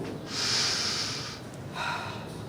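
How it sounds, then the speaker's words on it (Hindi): A patient's deep breath drawn in and let out during a doctor's checkup, a breathy rush close to the microphone, a pause, then a second shorter inhale, with no talking. "लंबी सांस लीजिए, गहरी सांस।"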